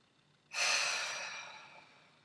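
A single deep breath during a neck relaxation exercise, starting abruptly after a short silence as a soft, airy rush of breath close to the microphone, then slowly fading away.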